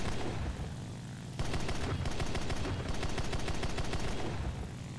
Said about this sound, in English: Shoot the guns off real quick.